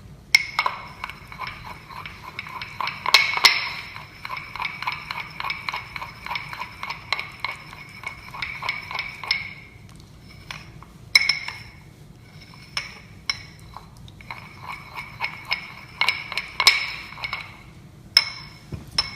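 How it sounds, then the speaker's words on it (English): Calamine paste is worked with glycerin in a pharmacy lab, giving steady scraping strokes with intermittent sharp clinks and taps, faint and close, with no talking. "we will start triturating our paste with glycerin"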